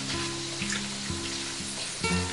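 Jumbo shrimp and chicken sizzle in oil at about 250 degrees, a continuous soft frying hiss with a low steady hum underneath, quiet and close.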